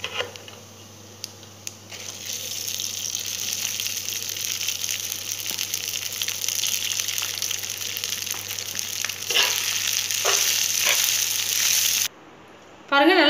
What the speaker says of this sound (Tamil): பாருங்கள், நல்லா கிளறிட்டு பொடி போட்டு கிளறிட்டேன்